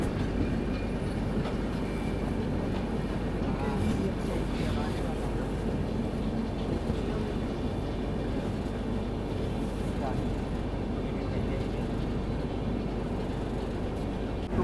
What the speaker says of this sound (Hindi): अपनी ट्रेन निकल रही है धीरे धीरे आगे